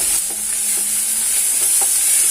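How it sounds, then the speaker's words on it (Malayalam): Chopped onion and green chilli hit hot oil in a pan for a Kerala-style mushroom dish, giving a steady, close sizzling hiss with light stirring scrapes throughout. "അതിലോട്ട് നമുക്ക് അരിഞ്ഞു വെച്ച സവാള, പച്ചമുളക് എന്നിവ ഇട്ട് കൊടുക്കാം."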